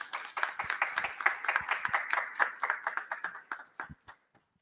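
A congregation at a Saint Marcellin Champagnat celebration claps in a brief round, individual hand claps clearly audible and fairly close, thinning out and fading to a few last claps before silence.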